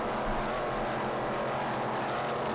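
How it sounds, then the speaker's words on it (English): A 33-foot Fountain offshore racing powerboat with twin Scorpion Racing engines roars past at a distance, a steady broad engine and water rush with no speech. "This is Team Conrad, Fountain of Youth. 33-foot fountain powered by Scorpion Racing engines."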